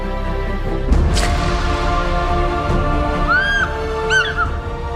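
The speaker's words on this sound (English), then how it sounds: "It's the call of Africa's most spectacular eagle, the African fish eagle." An African fish eagle at Lake Naivasha gives a few ringing, yelping calls midway through, heard over a constant low droning background.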